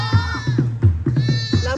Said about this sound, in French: Là-bas, ils sont là-bas les moutons.